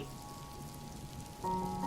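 Soft, steady rain in a storm, heard as a faint, even patter on surfaces throughout. A sustained musical tone enters near the end.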